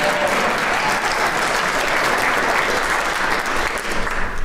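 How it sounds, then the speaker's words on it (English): A crowd at an awards ceremony applauds steadily, dense clapping holding at an even, loud level throughout without any talking. "So give a round of applause."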